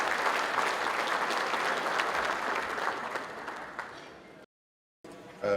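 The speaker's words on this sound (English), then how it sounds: "Give him a big round of applause." Audience applause at a national exporter awards ceremony: a dense, sustained round of clapping from a large crowd that fades, cuts to a brief silence, then returns at the end.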